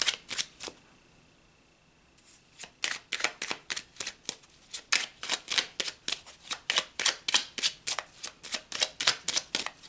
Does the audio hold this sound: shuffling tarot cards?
yes